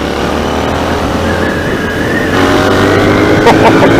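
A 2019 Royal Enfield Interceptor motorcycle on a test ride gives a loud, steady engine drone mixed with heavy wind rush, holding a constant pitch.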